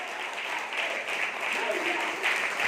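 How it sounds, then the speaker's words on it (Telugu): A congregation claps together in church during a Sunday service, a dense, steady wash of many hands that holds throughout, with voices mixed in underneath. "నమ్మిన వారు చప్పట్లు కొట్టి దేవుడు కార్యములు బట్టి వందనాలు చెల్లించాలి"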